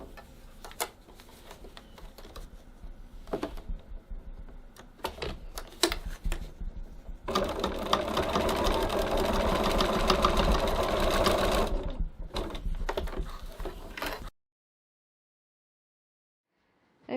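A sewing machine stitching tabs and straps for a satchel bag, with short bursts of stitching followed by a long steady run of several seconds, close up, then silence.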